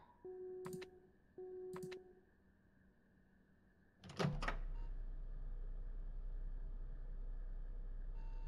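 A game alarm in FNAF Graveyard Shift: two short electronic tones with a buzzy edge, a pause, then a loud clanging burst that settles into a steady low droning hum, with no talking.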